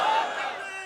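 A crowd at a religious rally shouts a slogan together in one loud, sustained group voice that fades slightly toward the end.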